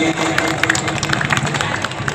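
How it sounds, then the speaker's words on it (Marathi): An audience claps steadily through the whole moment at a rural ceremony opening the Ramkrishna Hari cloth store, with a dense, even patter of many hands and a few louder individual claps standing out. "टाळ्या झाल्या पाहिजे दादांसाठी"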